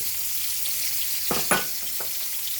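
Onion and bandhania frying together in a pot for a curry, giving a steady close sizzle with a few brief clinks or stirring knocks near the middle.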